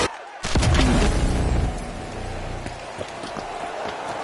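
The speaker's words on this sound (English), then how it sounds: "Torrential rain has turned the arena into a noisy battlefield" Torrential rain pours over an arena in the video game The Finals, a dense steady hiss with a heavy booming burst near the start and scattered pops and thuds underneath.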